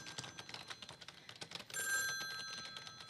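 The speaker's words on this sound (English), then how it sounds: "Must we have this conversation every time the phone rings?" A telephone bell rings in a busy office setting, a steady electronic trill with sustained tones that rises in the second half, over scattered clatter and faint background activity.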